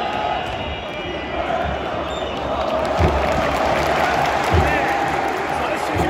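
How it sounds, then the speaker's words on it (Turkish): A stadium crowd at a Fenerbahçe versus Karagümrük football match applauds a substitution, steady crowd roar and clapping with rhythmic thumps underneath, heard from within the stands. "Samet alkış aldı"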